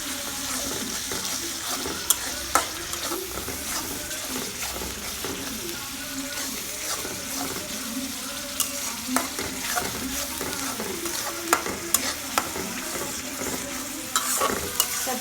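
Cumin paste frying in a pan for a spiced oxtail dish, a steady, fairly close sizzle with repeated scraping stir strokes and occasional clicks of the utensil against the pan.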